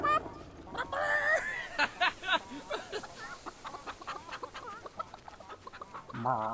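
Chickens cluck repeatedly in the video game Fable III, a run of short, choppy clucks and squawks close by, alongside game sounds and a brief voice at the end.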